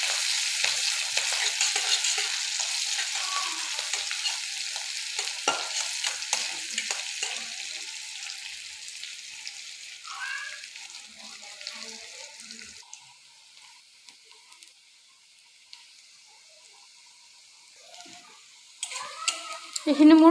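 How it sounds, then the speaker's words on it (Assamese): Onion, garlic and green chili fry in hot oil in a pan, a loud sizzle that slowly fades as the stirring goes on, with occasional clinks and a brief kitchen clatter near the end. "এতিয়া মই ইয়াত পিঁয়াজ নহৰু দি দিম আৰু কেঁচা জলকীয়া।"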